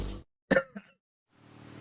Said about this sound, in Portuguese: Não, tô com tosse.